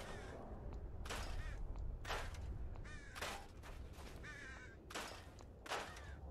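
Crows cawing in the Fallout 4 video game, a series of harsh repeated caws coming in bursts over a steady noisy outdoor background, moderately loud and continuous throughout.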